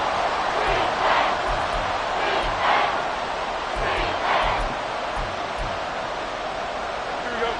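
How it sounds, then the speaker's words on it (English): A football stadium crowd roaring and swelling in volume late in a game, a dense, sustained wash of cheering noise with a commentator's voice talking over it. "This crowd turning up the decibel level."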